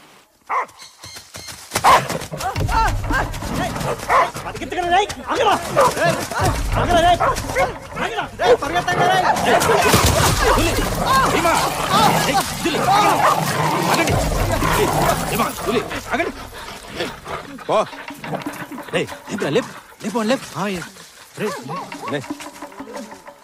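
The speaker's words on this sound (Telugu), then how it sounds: "రోజు చూసే కుక్కలే కదయ్యా, నా వెంట ఎందుకు పడతాయి అనుకున్నాను." Dogs bark and yip repeatedly while chasing a man, loud and close, mixed with dramatic music and talking, in a scene from the Telugu film Aarambham.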